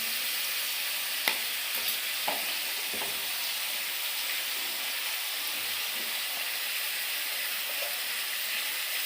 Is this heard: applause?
no